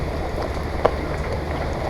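Rain falls steadily during a rainy spell, a soft, even hiss close by with one brief tap near the middle and no talking.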